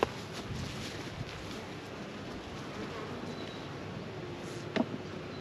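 Honey bees hum around an opened hive during an early June inspection, a steady low drone running throughout with a brief louder buzz near the end, likely a bee passing close.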